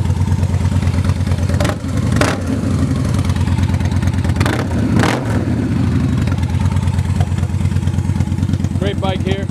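2009 Victory Kingpin 8-Ball cruiser bagger motorcycle engine running loud and close, with a steady idle rumble broken by a few sharp revs.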